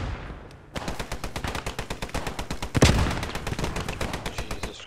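Vickers machine gun firing in a combat video game, a long run of rapid, evenly spaced loud shots that starts abruptly after a quiet moment and holds steady, with a heavier burst or blast partway through.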